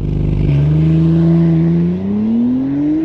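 A McLaren V6 sports car engine in sport mode fires up and revs, its note climbing steadily as the car accelerates hard, loud and close throughout with no talking.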